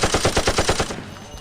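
Kalashnikov gunfire from the action film Mile 22: a rapid, loud automatic burst of evenly spaced shots that tails off into a fading echo.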